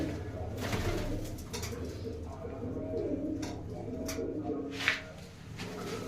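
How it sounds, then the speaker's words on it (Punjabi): Pigeons coo in low, repeated murmurs over a steady background hum, with a brief sharp tap near the end. "ਆਹ ਕਬੂਤਰੀ ਬਹੁਤ ਸੋਹਣੀ ਉੱਡੀ ਆ"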